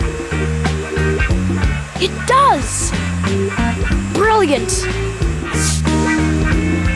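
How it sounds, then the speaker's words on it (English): Hair dryer blowing with a steady whirring roar throughout, tipped to angle its airflow, while voices talk excitedly over it, near and loud. "Try tipping the hairdryer over"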